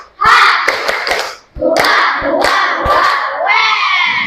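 Junior high school students in a classroom shout a loud rhythmic clapping chant in unison, with sharp group claps punctuating their voices in two bursts separated by a short pause.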